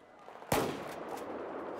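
A single shotgun blast of buckshot in Battlefield 4, a sharp loud report at close range followed by a decaying rumble, with faint background game noise.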